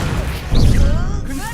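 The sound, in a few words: Leviosa levitation spell cast from the video game Hogwarts Legacy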